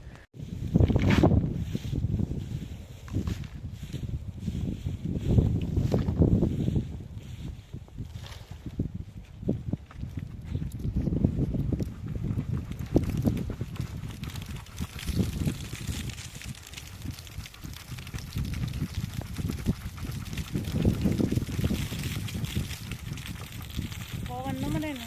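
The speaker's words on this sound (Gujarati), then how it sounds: "પવન ભારી હે આજ." A strong wind blows across a farm field during winnowing, its gusts rising and falling as low, rough buffeting bursts close to the microphone throughout.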